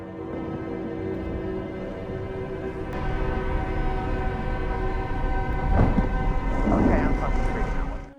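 A thunderstorm gathering under dark clouds above a boat: steady, loud rain-like rushing with deep thunder rumbling midway, under a sustained musical drone.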